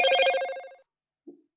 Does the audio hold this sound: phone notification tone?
yes